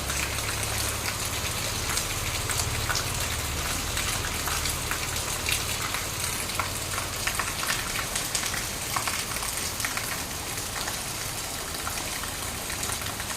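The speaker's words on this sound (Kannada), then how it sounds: "ಇವಾಗ ಹನ್ನೊಂದು ಗಂಟೆಯ ನಂತರ ಮಳೆ ಬರ್ತಾ ಇದೆ" Steady rain falls continuously, a dense hiss of drops pattering on surfaces with a low rumble underneath, no voices present.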